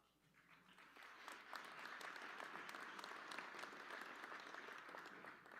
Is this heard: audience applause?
yes